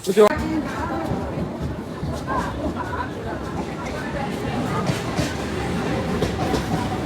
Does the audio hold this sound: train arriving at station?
yes